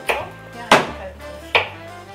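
Knife chopping yellow zucchini on a board in a home kitchen: three crisp, separate cuts spaced unevenly, close and fairly loud, with no talking.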